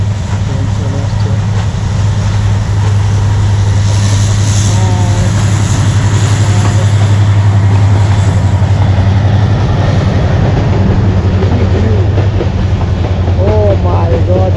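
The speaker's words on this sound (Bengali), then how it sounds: "ট্রেন চলে আসছে" A train pulling in near the hills of Sreemangal gives a loud, steady rumble of wheels and carriages that fills the whole stretch, while voices talk excitedly over it.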